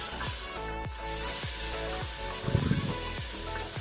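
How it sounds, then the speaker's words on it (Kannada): Tomato frying in a pan with browned onion for crab gassi, a steady sizzle with repeated scraping stirs at a regular pace, close and clear with no talking. "ಟೊಮೆಟೊವನ್ನು ಸಹ ಸ್ವಲ್ಪ ಫ್ರೈ ಮಾಡ್ಕೊಳ್ಳುವ"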